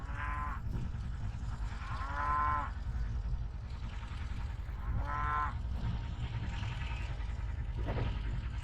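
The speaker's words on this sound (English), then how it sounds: "It's kind of hard sometimes to have this many cows on grazing in one pasture" Cattle in a large open pasture lowing several times, with long moos rising and falling over a steady outdoor background, fairly near and not covered by talk.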